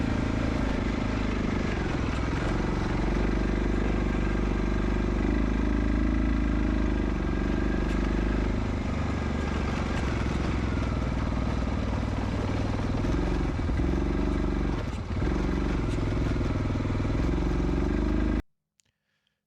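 A 1986 Honda Fourtrax ATV engine runs steadily and loudly close by with a choke kit fitted, its rough mechanical drone holding nearly constant before cutting off abruptly near the end.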